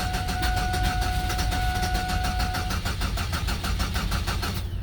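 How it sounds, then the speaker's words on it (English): A 2004 Chevy Venture engine cranks steadily without catching, with a fast, even starter rhythm held loud and close throughout and no voices. "So let's see if the car will start. Turn the key on."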